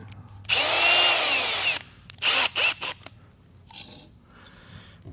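A Matco HyperStep step drill bit bores through metal in one sustained, whining burst, then several shorter stop-start pulses of drilling follow, close and loud with quiet gaps between.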